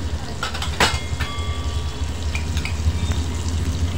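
Kashmiri red chilli powder and coriander powder frying in oil in a pan for a spicy drumstick and potato sabji, a continuous low sizzle with a few clinks from stirring, voice faint beneath.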